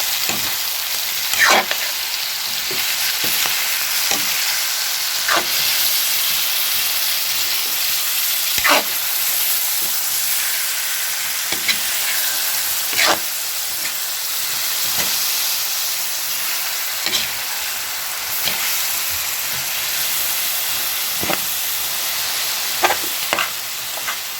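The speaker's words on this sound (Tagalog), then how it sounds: "So, hayaan lang natin kumatas yung kamatis." Tomatoes frying for asado in a pan, a steady loud sizzle and hiss running throughout with intermittent scrapes and clicks of stirring, close up and with no talking.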